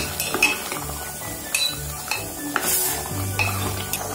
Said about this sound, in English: After adding turmeric powder, I'm gonna give a good stir.